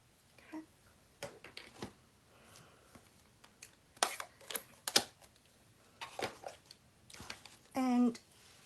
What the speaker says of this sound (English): we're going to stamp the splats in cloud cover